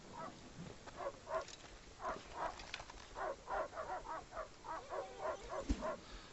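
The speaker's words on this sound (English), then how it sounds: "The wolves." Wolves in the survival video game Rust, heard as a run of yipping, whimpering canine cries that come in irregular bursts and sound moderately distant, with no talk over them.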